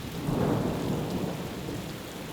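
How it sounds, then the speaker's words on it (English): A storm of hail and rain roars with a deep rumble of thunder, swelling early then settling into a steady heavy downpour, loud and close with no voices. "Then God sent a terrible storm of hail."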